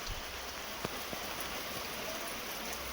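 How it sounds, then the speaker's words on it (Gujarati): Soft, steady patter of light rain with a couple of faint drips standing out, no voices. "ધીમી ધારે વરસાદ ચાલુ થઈ ગયું છે"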